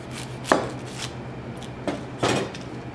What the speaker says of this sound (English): I'm going to cut top and bottom.